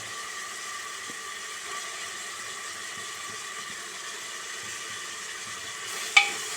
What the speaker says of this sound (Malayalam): അതിലേക്ക് പച്ചമുളക് അരിഞ്ഞതിടുക തക്കാളിയും ഇടുക